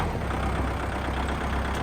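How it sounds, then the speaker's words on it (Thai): A 2021 L50 tractor with about 1,500 hours of use runs steadily nearby, giving a continuous low engine drone with no talking. "ฟังเสียงเครื่องยนต์เลย L50 นะคะ"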